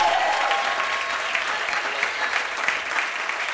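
A church congregation applauding in acclamation of the Lord during a service, sustained crowd clapping throughout with faint voices mixed in.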